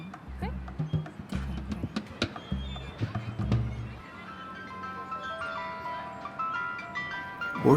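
An ice cream truck's chiming tune plays amid a busy street, with repeated low thumping bursts and a crowd murmur early on, then steadier sustained musical tones rising toward the end.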